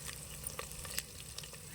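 Onion and green chilies fry in a pan while being stirred, giving a faint, low sizzle with soft intermittent scraping taps.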